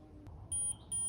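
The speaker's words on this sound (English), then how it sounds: "2 beeps, and that should put on zone 2." The control box of a Harvst Watermate Pro automatic watering kit in a Polycrub gives two short, high electronic beeps, faint and close in an otherwise quiet space.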